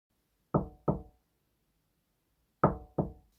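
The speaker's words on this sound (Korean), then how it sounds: "문을 두드렸다." Someone knocks on a neighbour's door: two crisp double raps, the second pair coming after a pause of about two seconds, each knock sharp and close in an otherwise silent space.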